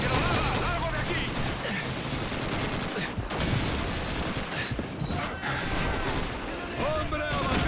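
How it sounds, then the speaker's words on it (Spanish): An MG-42 machine gun fires in a World War II battle in the video game Call of Duty 2, with sustained loud bursts mixed into dense surrounding gunfire and occasional crashes, continuing almost without pause. "¡Es una MG-42!"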